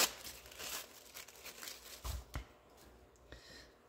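Sheets of patterned paper are handled and laid down for a wallpaper mixed-media junk journal cover, with close crinkling, rustling and shuffling, a couple of sharper flaps midway, then quieter settling.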